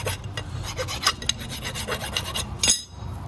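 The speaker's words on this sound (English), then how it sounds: "you can grab a file and file this, any rust" A metal file scrapes rust off a car brake part, close, dry rasping strokes repeated in a quick, uneven rhythm.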